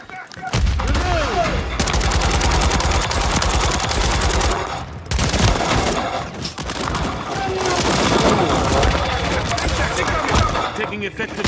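Dense automatic and single gunfire from a Call of Duty video game crackles almost nonstop, loud and close, with brief lulls, while voices talk over the shooting.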